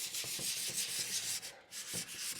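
Hand sanding along the rough edges of a hand-built guitar's fretboard, a close, steady rubbing rasp in repeated back-and-forth strokes with a brief pause near the middle.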